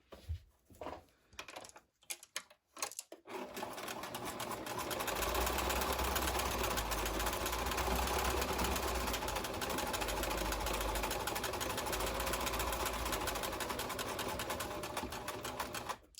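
A sewing machine top-stitches the outline of fabric leaves for a garden pouf, a few short bursts at first, then a steady, close, continuous run of rapid needle clatter.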